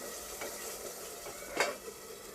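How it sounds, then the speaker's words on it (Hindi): Masala stir-fried in a pan for aloo korma gives a quiet, steady sizzle, with a spoon scraping and tapping against the pan now and then, one sharper clink standing out. "और इस मसाले को अच्छे से भून लीजिए।"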